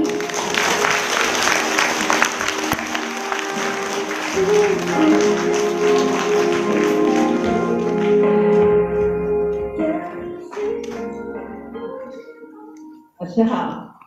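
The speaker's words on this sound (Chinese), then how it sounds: "让我们掌声欢迎来自西湖的永琪。" An audience claps steadily in applause to welcome a speaker at a gratitude-sharing event in Fengyuan, with music playing underneath. The clapping thins out toward the end.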